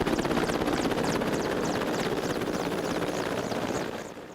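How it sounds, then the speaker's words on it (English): An Mi-8 helicopter's rotor thuds in a fast, steady beat over a loud engine whine, close by, easing off slightly at the very end. "The Mi-8 helicopters are refueled and rearmed."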